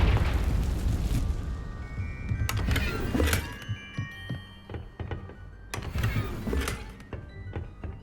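A Confringo spell explosion in the video game Hogwarts Legacy: several sharp booming blasts with ringing, tonal magical tails, loud and close, separated by brief gaps.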